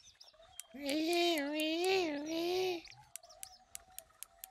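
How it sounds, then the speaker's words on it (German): A bird in the Fishing Planet game gives a loud, wavering, warbling call lasting about two seconds, followed by short sharp chirps repeating at intervals, with a brief voice at the end. "da ist wieder dieser Vogel"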